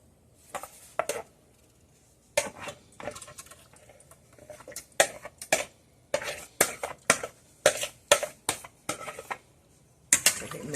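A utensil clicks and taps against a bowl as melted butter is whisked into waffle batter. The strokes come in a steady, quick rhythm that grows more regular and is close and fairly quiet.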